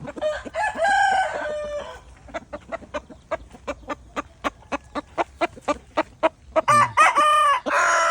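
Young farm-bred rooster gives a loud, close crow, then a long series of sharp, evenly spaced clucks, and ends with another crow.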